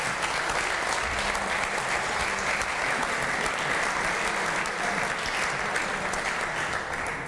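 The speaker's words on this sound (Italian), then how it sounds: "allora un applauso anche a loro" An audience at a Christmas sports celebration applauds managers being honored, a dense, steady burst of clapping that holds at full strength for about seven seconds with no speech over it.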